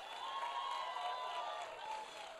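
Applause from the audience at a live movie promotion event, a continuous wash of clapping and faint cheering held at a fairly even level throughout.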